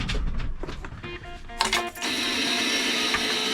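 Starter on a 1977 Ford F250 with a 460 V8 grinding through a cold warm-up start: a rough, uneven mechanical churning, then the engine catches and settles into a steady, fairly quiet running hum.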